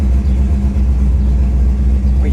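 A 1963 Chevrolet Impala hardtop's 409 V8 runs steadily while driving down an alley, a deep, smooth low rumble that stays constant and close throughout with no revving.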